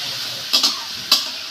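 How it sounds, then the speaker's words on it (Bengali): Masala with turmeric and salt is sautéed in a pan, giving a soft, steady sizzle broken by three quick, sharp scraping strokes close by. "দিয়ে মশলাটা সুন্দর করে কষিয়ে নেব"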